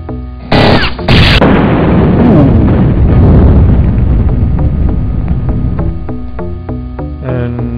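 Rocket launcher in the video game Syndicate fires with two sharp blasts, followed by a loud booming explosion that rumbles and decays over several seconds, then scattered clicks and thuds.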